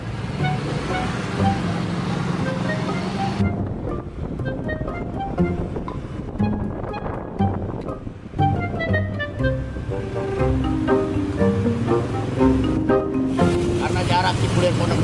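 A motorcycle riding through village lanes, with continuous wind buffeting and road rumble that rise and fall, and voices occasionally heard over the ride.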